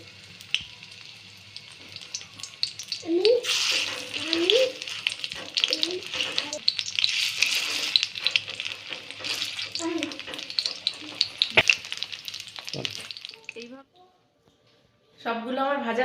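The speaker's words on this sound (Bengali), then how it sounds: "আমি একইভাবে সবগুলোকে এইভাবে ভেজে নেব" Chicken kebabs sizzle in a frying pan with a bright, steady hiss and scattered scraping and turning clicks, under a voice, stopping briefly near the end before resuming.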